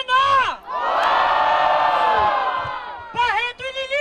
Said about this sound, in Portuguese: Muito barulho pra quem gostou das rimas de JP e Ravena